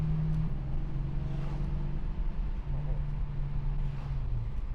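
A rare Australian Chrysler Charger Drifter V8 drives on a public road, heard from inside as a steady, loud, low engine drone with slight shifts in pitch over the few seconds.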